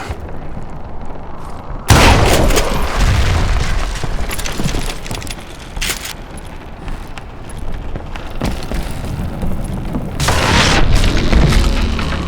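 A loud gunshot in the Call of Juarez Gunslinger video game, fired at the rope holding up a footbridge, hits with a heavy boom. Dense rumbling game noise follows, with another strong burst near the end.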